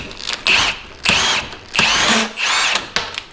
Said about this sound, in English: Drilling it out made a huge difference.